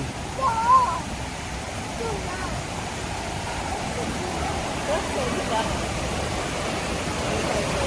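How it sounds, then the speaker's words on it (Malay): A small waterfall at a river campsite rushes with steady broadband noise throughout, with a brief voice near the start. "Uyo, ada air terjun."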